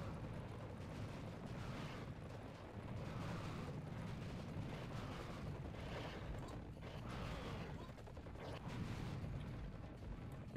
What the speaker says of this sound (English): Perfect time for rocket launcher.